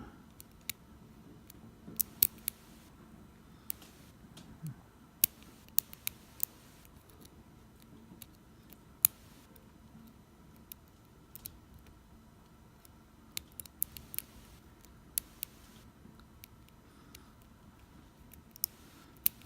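Small metallic clicks and ticks come from picking an S. Parker Jaws padlock, scattered and faint over a quiet background with no talking.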